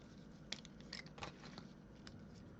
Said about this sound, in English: cut off a little piece of cord.